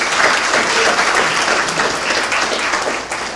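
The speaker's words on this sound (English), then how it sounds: "let's give them a round of applause" A crowd at a youth summit gives a loud round of applause, a dense continuous clatter of many hands that fades slightly at the very end, with no talk over it.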